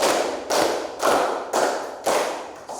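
A class of pupils claps in unison, several sharp, even claps about half a second apart, steady and close with no voices.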